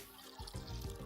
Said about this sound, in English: That was about a cup of water that I used to get the fond off of the bottom of the pan